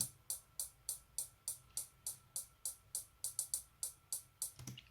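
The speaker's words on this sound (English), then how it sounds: "I used a really simple hi-hat pattern," Crisp hi-hat hits in a steady, simple pattern, with a few quicker doubled strikes near the end over a faint low hum.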